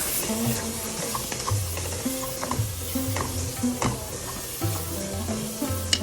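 Spice masala with chopped tomato stir-fried in a pan for a beef tripe bhuna, with a steady sizzle and repeated scraping stirs of a spoon against the pan, close and alone.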